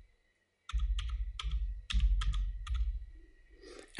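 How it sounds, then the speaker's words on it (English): Keys clack on a computer keyboard as text is entered, a run of close, distinct taps in an uneven rhythm with short pauses between bursts. "let's type anything that you want."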